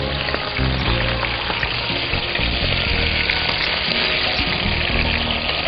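Chicken pieces dropped into hot oil sizzle loudly and continuously, a dense crackling fry that stays strong across the whole stretch with no voice over it.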